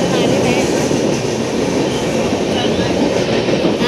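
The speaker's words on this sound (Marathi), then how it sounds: "हा सोडायची ट्रेन आहे." A train rolls steadily along the rails in Mumbai, a loud, continuous rumble and rattle of wheels and carriages from close by that lasts the whole stretch, with no voices.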